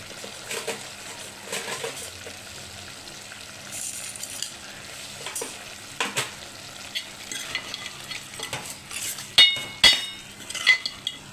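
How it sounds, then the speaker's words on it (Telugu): Mutton and drumstick curry is stirred slowly in a pan, with a soft sizzle underneath and intermittent scraping and metallic clinks of the spoon that grow louder near the end. "మెల్లిగా తిప్పాలండి, లేకపోతే ములక్కాయ నలిగిపోద్ది, ఊరినే ఉడికిపోద్ది."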